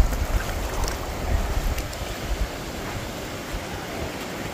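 Sea waves at Alibaug beach wash in with a broad, rushing surge over wind buffeting the microphone, a few soft swells rising and fading at moderate distance, no talk.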